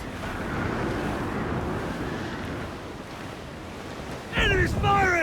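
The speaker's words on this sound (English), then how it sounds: "Wind is picking up nasty!" Wind and ocean waves at sea aboard a sailing ship in Assassin's Creed 4 Black Flag, a steady broad rush of surf and gusting air, with a brief sharp creak or cry rising near the end.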